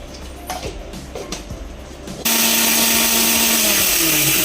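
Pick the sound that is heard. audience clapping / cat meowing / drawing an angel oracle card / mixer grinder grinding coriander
mixer grinder grinding coriander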